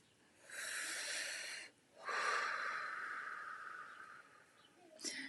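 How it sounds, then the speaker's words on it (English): A slow, deep breath taken close to the microphone: a long airy inhale, a short pause, then a longer audible exhale trailing off, with a small sniff at the end. "Take a deep breath."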